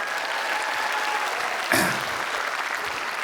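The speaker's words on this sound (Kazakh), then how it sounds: "Рахмет шапалақтарыңыз" Audience at a stand-up comedy concert applauding, a steady dense wash of clapping throughout with a brief louder burst near the middle, no voices over it.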